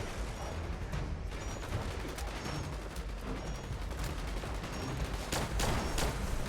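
Gunfire in the video game Fallout 76 crackles in quick, irregular bursts, with repeated sharp shots over a dense, noisy game soundscape at a fairly low level.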